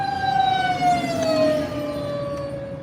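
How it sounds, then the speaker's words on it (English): Ambulance siren passing on a road, a steady wailing tone slowly falling in pitch as it moves by, fairly loud over traffic noise. "Ambulance."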